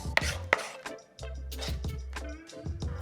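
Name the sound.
chopping roasted garlic with knife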